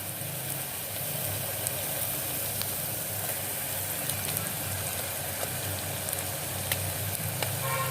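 Green chilies and bay leaves sauté with onions for seeraga samba mutton biryani, giving a constant, even sizzle from the pan with faint scattered stirring clicks and no speech.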